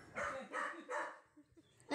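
A Rottweiler puppy barks three times in quick succession, close and fairly loud, followed by softer small yips and a brief louder bark at the end.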